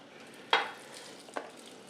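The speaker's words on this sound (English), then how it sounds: "a nice light sizzle" Egg mixture hits a hot pan inside cooking rings with a sharp hiss, then fades to a light, steady sizzle. A second, softer hiss follows shortly after.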